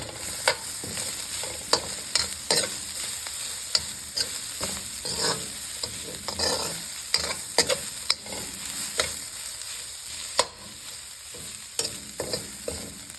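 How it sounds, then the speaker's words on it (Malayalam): Frozen grated coconut is stirred into frying onion and garlic for a spinach thoran, with a continuous close sizzle and frequent sharp spatula scrapes against the pan. "ഇനി നമുക്ക് തേങ്ങ ഇട്ട് കൊടുക്കാം"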